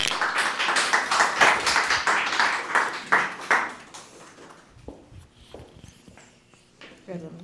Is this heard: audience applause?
yes